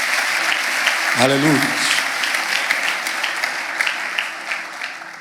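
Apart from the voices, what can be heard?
audience applause in church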